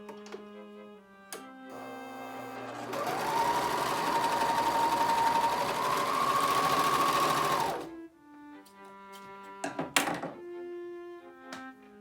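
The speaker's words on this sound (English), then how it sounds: "place it face to face, and sew it into a circle" A sewing machine stitches a T-shirt neckband into a circle, running in one steady whirring burst of about five seconds, with soft thunks and handling clicks before and after.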